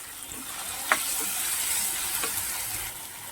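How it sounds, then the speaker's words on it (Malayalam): Tomatoes sautéing in a pan for a drumstick masala curry, a soft steady sizzle running throughout with a couple of brief clinks from stirring. "തക്കാളി ഒന്ന് നന്നായി വഴന്ന് വരട്ടെ"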